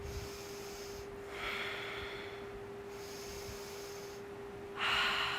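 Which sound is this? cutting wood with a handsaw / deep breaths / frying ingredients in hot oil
deep breaths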